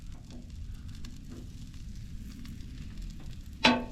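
Food frying in a pan over a camp stove outdoors at Lake Havasu City, a faint steady sizzle throughout, with a sharp bright clatter near the end.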